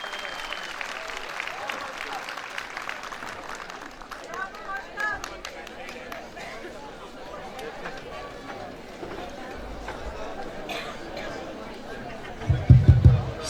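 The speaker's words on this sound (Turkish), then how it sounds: "kuvvetli alkışlarınızla davetlerimi arz ederim" Audience applause at a Karacaova population-exchange community gathering, greeting the platform's leader as he comes up to speak. Steady clapping runs throughout at moderate level, with a few low thumps near the end.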